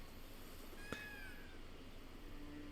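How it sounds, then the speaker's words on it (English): A cat in The Elder Scrolls Online gives one short, faint meow partway through, set against a quiet game ambience hum. "You're oddly adorable for such a chaotic little creature. But then again, that's just cats as a whole."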